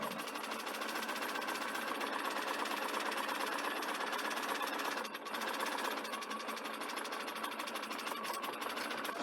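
A sewing machine runs continuously while stitching a fabric front band, giving a fast, steady mechanical whir with a brief pause midway before it resumes for a back stitch.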